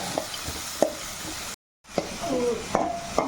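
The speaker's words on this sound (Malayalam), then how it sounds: "ആ സ്മെല്ല് വരുന്നത് വരെ ഒന്ന് ഇളക്കി കൊടുക്കുക" Beetroot and onion being stirred in a pan, a soft sizzle with scattered scraping taps of a spoon, cut by a brief moment of silence partway, then a slightly louder sizzle with more scraping.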